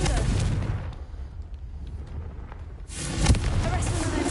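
Confringo fire spell cast in the game Hogwarts Legacy, a loud roaring blast with rumbling bursts filling the clip, fading midway before a second heavy burst surges back.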